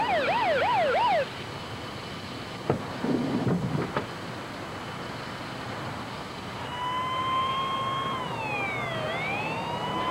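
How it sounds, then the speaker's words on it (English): Emergency rescue vehicle sirens sound at a distance, first a fast warbling wail, then a slower rising and falling tone, over a steady hiss of background noise. "Hearing the sound of sirens, Rick drove toward them and managed to get the attention of one of the rescue units."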